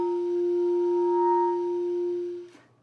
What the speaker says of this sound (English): So if your tongue is too low, you might get an undertone that sounds like this.